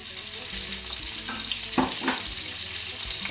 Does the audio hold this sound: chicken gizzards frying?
yes